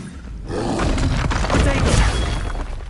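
Expelliarmus disarming spell cast in the Hogwarts Legacy video game: a loud, sustained roaring magical burst with a crackling, shattering edge, starting after a brief quieter moment and holding strong throughout.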